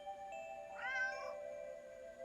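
A stray cat in a dirty old alley gives a single drawn-out meow, clear and close against a faint steady background hum.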